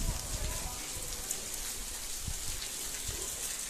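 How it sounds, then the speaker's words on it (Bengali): Light drizzle falls steadily around the old Muktagacha zamindar house, a dense, even patter of raindrops on nearby surfaces that stays constant for the few seconds heard. "বৃষ্টি পড়ছে,"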